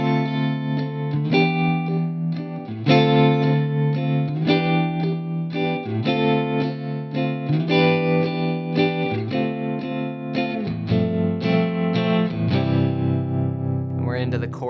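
Guitar playing the pre-chorus of a song, effect-laden chords moving back and forth in a steady, rocking pattern, full and continuous throughout.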